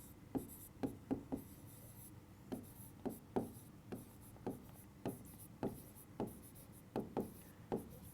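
Handwriting with a pen on paper, a series of soft, distinct strokes and scratches in irregular bursts, close and quiet, with no talking.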